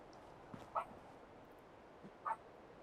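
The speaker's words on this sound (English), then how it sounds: "Apologies if you can hear the dogs in the background there." Two brief, faint dog barks or yips from the distance in a quiet room, roughly a second and a half apart, with no talk.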